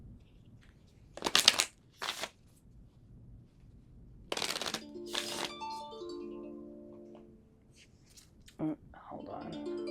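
Tarot cards are shuffled and drawn in short crisp bursts of riffling and flicking, close and fairly quiet, with brief pauses between, while a person talks softly.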